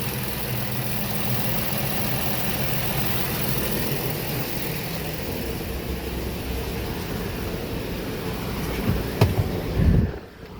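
A 2015 Ford Explorer engine runs steadily on a test drive, a loud continuous mid-pitched drone with a couple of brief knocks and rattles near the end.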